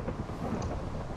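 Rumbling thunder and steady rain from a video game storm fill a short stretch, a dense low roar with a hiss of falling water, fairly loud and continuous with no talk.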